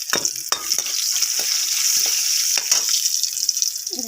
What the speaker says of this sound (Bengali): দিয়ে দেবো বেটে রাখা কুমড়ো পাতা।